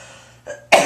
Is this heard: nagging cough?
yes